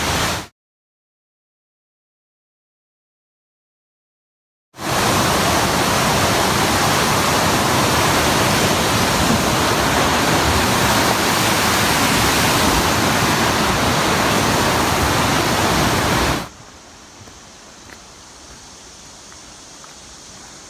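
Loud, steady rush of Mouse Creek in the Smoky Mountains roaring continuously for about twelve seconds, then cutting to a much quieter, distant flow.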